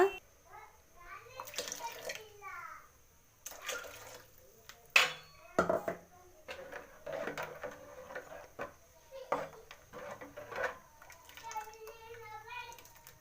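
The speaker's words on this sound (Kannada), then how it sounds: "ಇವಾಗ ಮಿಕ್ಸಿ ಜಾರಿಗೆ 1 ಗ್ಲಾಸಷ್ಟು ನೀರು ಹಾಕ್ಕೊಂಡು ಒಯ್ಕೊಳ್ಳೋಣ." Water from a glass is poured into a mixer grinder jar while making a vegetable sambar without dal, with splashing mixed with clinks of the jar and utensils and some voices in the background.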